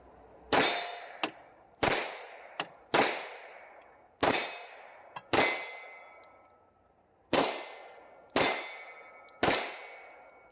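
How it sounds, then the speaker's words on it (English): Rock Island STK 100 pistol fired at a 3-by-2-foot steel plate on a range: about eight sharp, loud shots at irregular intervals, each with a ringing metallic clang that decays between them, with a few fainter smaller knocks. "There's a 3-foot by 2-foot steel plate up there. I'm just going to shoot at that."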